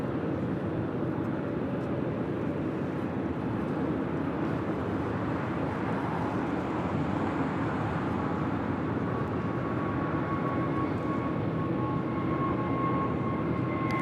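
An American Airlines Boeing 787 Dreamliner landing on runway 25 left at LAX, a steady broadband jet roar holding at even loudness from start to finish, with a faint tone rising in the background.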